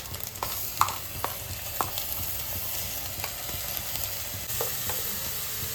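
Garlic and coriander paste hits hot oil in a pan and sizzles steadily, with a few sharp scraping and stirring knocks from a spoon, close and clear with no talking.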